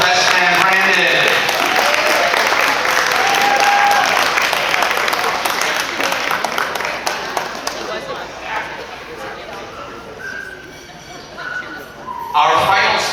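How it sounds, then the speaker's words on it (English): Wedding guests applaud the best man at a reception toast, with a sustained burst of clapping and crowd noise that gradually tapers, with scattered voices and cheers throughout and some talk near the end. "round of applause for best man Brandon"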